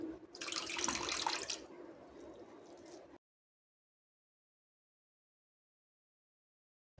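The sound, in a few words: grated potato lifted out of water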